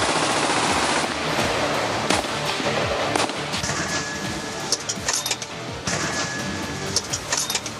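Heavy gunfire between BSF soldiers and Pakistani Rangers in the Samba sector of the border: dense, rapid automatic bursts and cracking shots, loud and sustained throughout with no talking.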